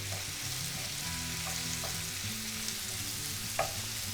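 Onions and mushrooms sauté together in a pan on the stove, a soft, steady sizzle with faint stirring scrapes and one small clink near the end, quiet and even.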